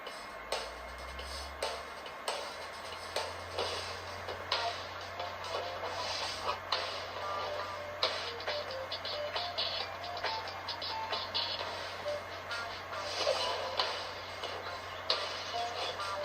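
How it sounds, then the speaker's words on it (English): Cooling fans of a retro Windows 98 PC spinning up, a low steady hum that shifts pitch early on, under frequent soft ticking and clicking close by, faint overall. "You can probably hear the actual fans whirring up more than the audio on this"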